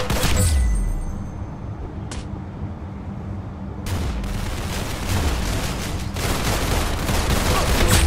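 Video game gunfire in an Arsenal round, with loud bursts of shots and sharp cracks near the start, midway and toward the end over a continuous rumbling battle din.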